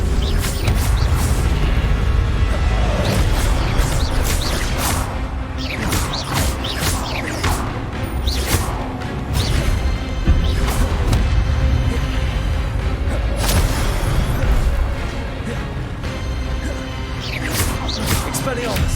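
Expelliarmus spell cast in a Harry Potter PC game: dense, continuous magical effects with repeated sharp cracks, whooshes and crashing hits over a constant rumbling bed, loud and busy throughout.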